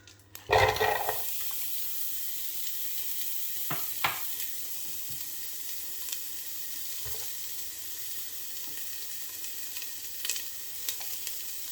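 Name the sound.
onion frying in coconut oil in a saucepan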